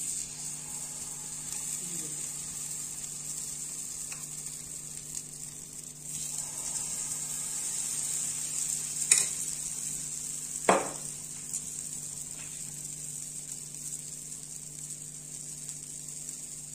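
Batter frying in a pan with a little oil, a steady soft sizzle and hiss throughout, with a few brief clinks and scrapes of utensils over it.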